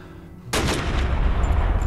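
A single loud gunshot in a short film cracks out of near silence, followed by a heavy echoing tail that lingers to the end.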